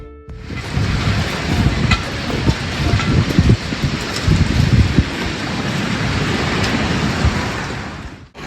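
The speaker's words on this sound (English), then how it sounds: "it's now blowing probably about 30 knots here in the anchorage" Strong wind of around 30 knots roars across a boat's anchorage in a Greek bay, a loud, steady, buffeting rush that fills the whole stretch without a break.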